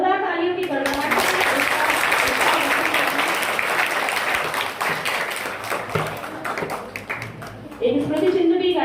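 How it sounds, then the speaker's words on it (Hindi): Schoolchildren at an award ceremony for meritorious girls break into loud, dense applause that lasts several seconds before fading as voices return. "विद्यालय की ओर से सभी बच्चे जोरदार तालियों की गड़गड़ाहट"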